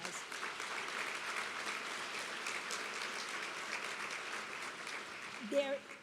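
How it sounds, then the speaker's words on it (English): Audience applause for event honorees at a National Philanthropy Day ceremony, a steady wash of clapping held at moderate level throughout, with a brief voice near the end. "Let's give them all another round of applause."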